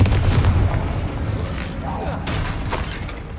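Confringo blasting spell going off in the video game Hogwarts Legacy, a heavy booming blast with rumbling low end that fades into crackling debris and smaller impacts, loud and close.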